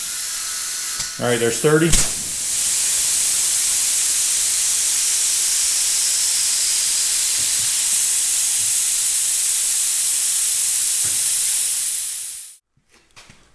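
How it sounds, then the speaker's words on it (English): Compressed air hisses steadily and loudly into a Farmall Super M tractor tire with the valve core removed, a continuous broadband rush lasting about ten seconds before cutting off abruptly, preceded by brief speech. "We're just shooting air in."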